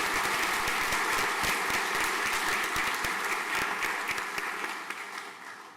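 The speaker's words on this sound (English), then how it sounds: "A round of applause, please." Students and families applaud at a school prizegiving ceremony, a steady round of clapping from a hall audience that gradually tapers off near the end.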